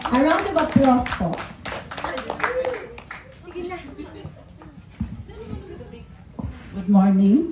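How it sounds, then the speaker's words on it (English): A group at a fan club meeting claps in a short round of applause; the patter of hands runs under steady talking voices throughout and stays moderate and fairly close. "A round of applause po."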